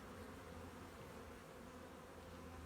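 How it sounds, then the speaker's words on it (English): Honey bees fly around a freshly moved mating nuc, a faint, continuous buzzing hum with no voices. "these bees might not look too happy because I just moved them here"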